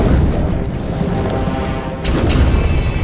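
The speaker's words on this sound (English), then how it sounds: "Oh man, fire!" A burst of fire in an animated Poppy Playtime cartoon comes through as a loud, steady rushing roar with a low rumble, briefly dipping before surging back up.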